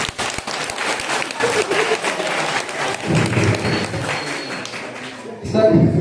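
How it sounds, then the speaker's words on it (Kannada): Loud audience applause at a gathering in Sirsi, a dense, sustained patter of many hands clapping that swells and holds, with voices mixed in and a short burst of talk near the end. "ಹೆಣ್ಮಕ್ಳಿಗೆ ಸಪೋರ್ಟ್ ಮಾಡುವಂತವ್ರು ಜೋರಾದ ಚಪ್ಪಾಳೆ ತಟ್ಟೆ."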